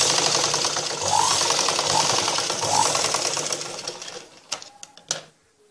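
A sewing machine stitching a blouse runs in a steady, fast mechanical chatter for about four seconds, close and fairly loud, then slows and stops with a few separate clicks and knocks.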